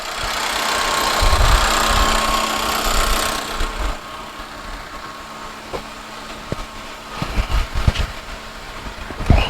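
A flood-damaged 2013 Hyundai Sonata engine idles after a jump start. It opens loud and rough, then settles to a quieter, steady idle, with scattered clicks and knocks near the end.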